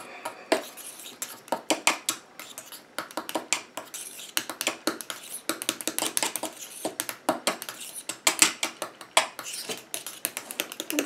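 Violet body butter cream is stirred in a bowl with a utensil, producing rapid, irregular clicking and tapping strokes against the bowl throughout, close and crisp with no talk.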